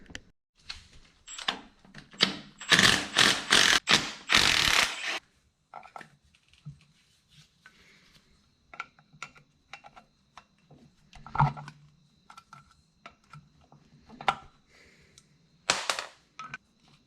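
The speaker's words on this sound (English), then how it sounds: "Now we can start pulling the bolts out of this first reduction cover" A ratchet loosens bolts on the first reduction transmission cover of a John Deere B tractor. A dense run of loud clicking comes early, then scattered lighter clicks and short bursts follow, with quiet gaps in between.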